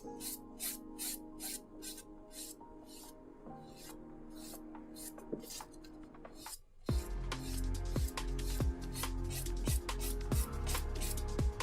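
A 120 grit file rasps across an acrylic nail in quick, regular back-and-forth strokes, close and distinct, getting heavier and fuller partway through.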